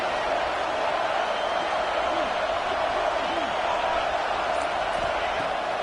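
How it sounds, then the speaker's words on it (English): Crowd noise in a college football video game, from a big home crowd at Happy Valley on third down: a dense, loud, unbroken roar that fills the whole clip with no clear pauses. "Here comes the noise from this big crowd in Happy Valley on third down."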